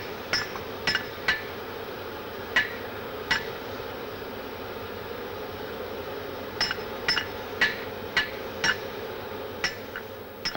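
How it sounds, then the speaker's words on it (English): A hand hammer strikes a red-hot wrought iron chain link during forge welding, sharp ringing metallic blows in uneven bursts over a low steady roar of the hearth fire. "Then with his hammer, he welds the link."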